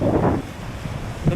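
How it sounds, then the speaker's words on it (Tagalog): Strong wind buffeting the microphone at a seaside fishing spot, a loud continuous roar with gusty rumble and surf-like wash, no voices. "Ang lakas ng hangin guys."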